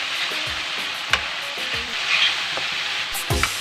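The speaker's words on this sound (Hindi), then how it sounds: "ये देखें जी ऑयल ऊपर आ गया है और टमाटर भी फ्राई हो रहे हैं।" Tomatoes and spices frying in oil in a pan for a Pakistani mixed vegetable sabzi, a steady close sizzle with a few stirring scrapes and knocks.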